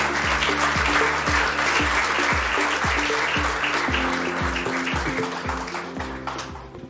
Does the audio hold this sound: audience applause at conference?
yes